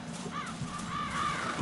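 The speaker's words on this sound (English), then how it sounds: "crows? Yeah, crows." Crows caw in the Resident Evil video game, giving two or three harsh, rasping calls at moderate distance over a low, steady game ambience, with no talk.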